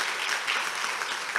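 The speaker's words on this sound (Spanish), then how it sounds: "dele un fuerte aplauso a Cristo Jesús" A church congregation claps in steady, dense applause during a Spanish-language worship service, a continuous wash of hand claps without pauses, heard alone.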